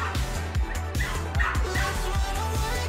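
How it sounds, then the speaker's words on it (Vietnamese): A pet dog at a home grooming session barks and yips repeatedly, mixed with whimpers, against a busy, loud indoor background. "đây là chó cô Ghi"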